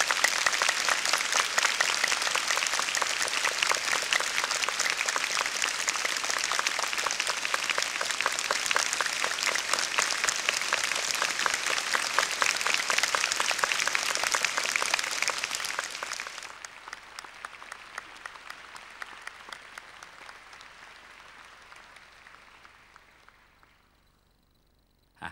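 An audience bursts into long, loud applause that holds steady for about fifteen seconds, then thins out and fades away to near silence.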